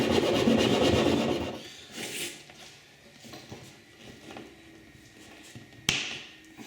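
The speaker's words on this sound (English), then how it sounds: "I can fit in a larger file here, which is square." Square metal file enlarging a square hole while a reverse camera is fitted to a C6 Corvette, heard as a few rasping strokes, heaviest at first and then lighter and intermittent, close and moderately loud, with a sharp knock near the end.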